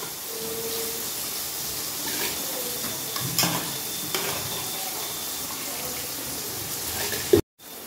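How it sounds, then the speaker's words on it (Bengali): Soaked rice tipped into a pot and stirred while cooking a Bengali lunch, a steady wet scraping and sizzling wash with a few clunks, ending in a sharp knock and sudden quiet. "ভেজানো চালটা এবার এর মধ্যে দিয়ে দিচ্ছি।"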